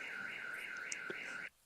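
A car alarm sounds in a steady, repeating wavering tone for over a second before cutting off abruptly, fairly clear against a quiet background.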